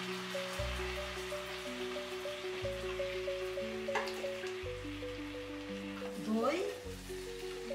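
Pointed gourd pieces fry in spiced oil with a continuous crackling sizzle and occasional stirring, set under steady background music.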